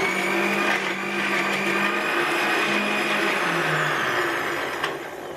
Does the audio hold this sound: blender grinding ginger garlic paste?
yes